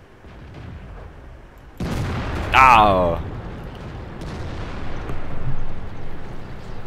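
Tank cannon fire in World of Tanks, a sudden loud blast followed by rumbling battle noise, with a person giving a short startled cry just after the shot.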